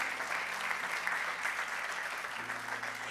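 A church congregation breaks into loud, sustained applause, a dense wash of clapping that continues steadily throughout without speech.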